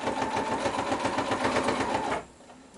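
A sewing machine stitches cotton shirt fabric scraps for a pillow cover, a fast even mechanical chatter close by, running steadily for about two seconds before stopping abruptly.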